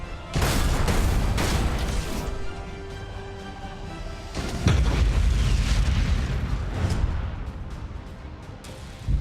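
Ship weapons fire and explosions in Battlefleet Gothic Armada 2, a space fleet battle game: heavy booming blasts with rumbling low-end decay, one big burst early and another around the middle, loud and dense with no talk.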